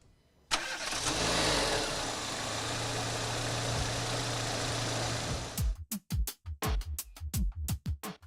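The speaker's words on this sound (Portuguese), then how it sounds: "Vamos ouvir o barulho desse motor." A conventional gasoline car engine starts after a brief quiet moment, then runs loud and steady at a constant idle for about five seconds before cutting off. Short bursts of talking follow.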